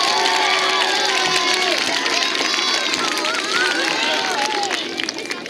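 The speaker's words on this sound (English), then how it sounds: "Can we please have another round of applause for our soloist?" At a school assembly, a crowd of children cheers and claps for a soloist, loud shouting and excited voices dominating a steady wash of applause close by.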